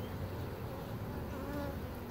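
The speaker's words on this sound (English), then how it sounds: "Quite a few bees in here." Many honey bees buzz in an open hive box during a rainy inspection, a dense, steady, fairly faint drone with no gaps and no talk.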